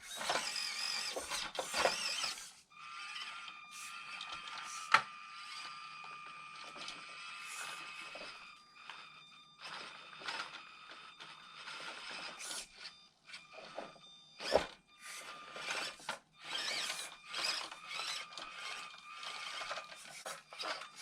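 Upgraded servo on an Scx24 C10 RC crawler whirring in quick, repeated bursts with faint mechanical squeaks and clicks, close and fairly quiet, no talking.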